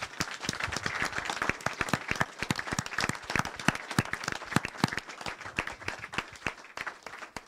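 A church congregation at a French-language sermon applauds, steady dense hand clapping from a sizable crowd holding for several seconds with no speech over it.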